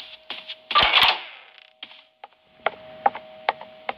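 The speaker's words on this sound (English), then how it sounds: "I'm just gonna open the door." A door opening in the Roblox horror game Doors: a short burst of mechanical clattering and latch-like rattling, followed by scattered faint clicks and ticks against a quiet room tone.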